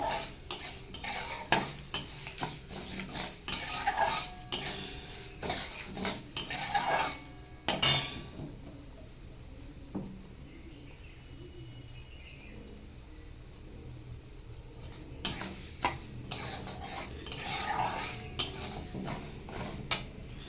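Frying in a pan while a utensil scrapes and clatters against it, sharp stirring knocks over a soft sizzle, pausing midway to a low hiss before the stirring picks up again.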